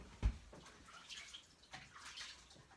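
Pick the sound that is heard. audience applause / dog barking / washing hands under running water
washing hands under running water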